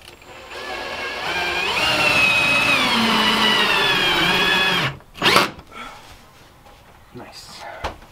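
A power drill drives a screw through a board into a 2x4 during a family tiny-house build. Its motor whines steadily and close for about five seconds, then stops, followed by a few brief knocks and handling sounds.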